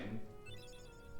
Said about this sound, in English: The bell at the Gizmo shop is ringing.